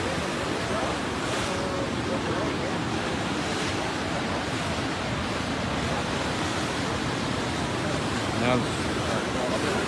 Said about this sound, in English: Now the ocean is coming back in through after going out.